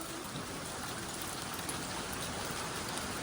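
Hail storm on a stormy Christmas in Italy, a dense, steady roar of pelting ice and rain hammering surfaces, constant and loud with no pauses or voices.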